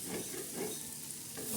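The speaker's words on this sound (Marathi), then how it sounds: "खरडत राहायचे हलवत राहायची चटणी." Chana dal chutney with green chillies, garlic and coriander being scraped and stirred on a hot iron griddle, giving a steady close sizzle with soft scraping strokes and no talk.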